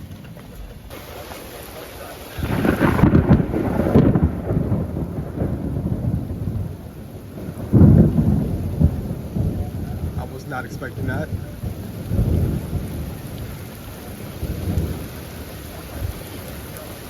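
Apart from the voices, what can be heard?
thunder during a severe thunderstorm with rain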